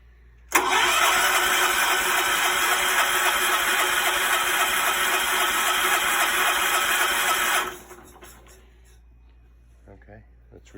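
A John Deere 210 riding lawn mower that has sat unused for a while is choked, then its small engine abruptly starts and runs loud and steady for about seven seconds before cutting out.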